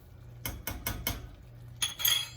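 A whisk strikes the sides of a pot as agar flakes are worked into boiling liquid, sounding as several quick metallic clicks and scrapes in an irregular rhythm, close and moderately loud, ending with a brighter clinking flurry.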